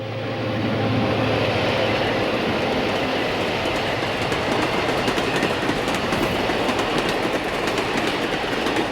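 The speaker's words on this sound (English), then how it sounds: "South of Rossford, E units pull an excursion extra." A passenger excursion train pulled by diesel E-unit locomotives rolls past with a deep rumble and steady clattering of wheels on rails, loud and close, building in the first second.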